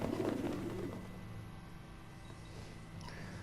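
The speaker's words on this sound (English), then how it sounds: "Pigeon." Pigeon cooing in the Prey video game, a short soft coo heard early over a low ambient game hum, fairly faint and alone.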